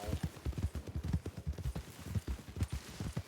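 Horse hooves galloping in Red Dead (WildRP), a rapid, steady clip-clop rhythm running throughout, fairly close but moderately quiet, with no talking.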